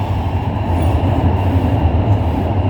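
A CRRC train on Shenzhen Metro Line 8 runs at speed, giving a continuous loud low-pitched rumble and faint rhythmic rail clatter, close and unbroken, with no talking.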